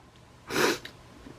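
A single short, breathy sneeze, faint and close, standing alone against a quiet background.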